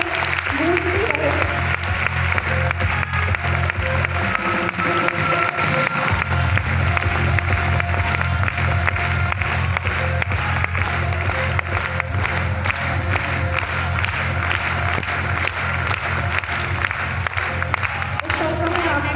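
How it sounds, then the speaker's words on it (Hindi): A large indoor crowd claps in sustained, dense applause while an amplified voice talks over it. "तालियां करतल ध्वनि की गूंज इस हॉल में गूंजती रहे"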